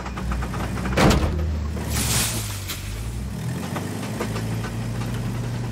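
A faulty car gearbox groans and knocks under a rumbling engine, with a loud clunk near the start and a rough, uneven drone that carries on throughout.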